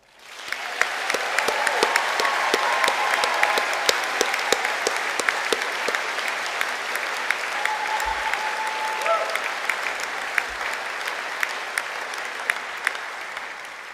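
A large crowd applauds at a university graduation ceremony in a hall, sustained dense clapping with crisp individual claps standing out, swelling in quickly, holding steady, and a faint voice briefly audible midway.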